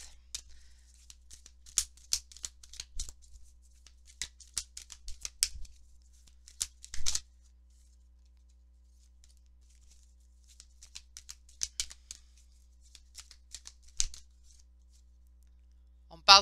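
Oracle cards shuffle in bursts of quick papery flutters and riffles, close and crisp, in several clusters separated by quiet gaps, with a sharper slap near the end.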